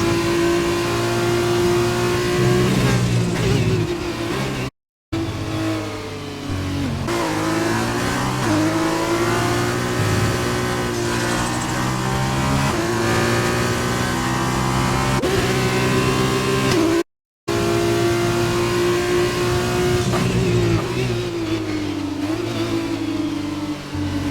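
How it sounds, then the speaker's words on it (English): Loud, continuous engine roar of Formula 2 race cars in a sim racing league round at the British GP, with the pitch sweeping up and down through gear changes as cars rush past, interrupted by two brief dropouts. "The cars are steaming through."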